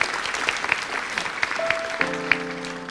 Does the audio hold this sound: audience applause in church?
yes